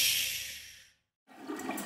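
Cartoon toilet flush, a loud rushing wash of water that drains away into a brief silence before a softer gurgle of refilling follows.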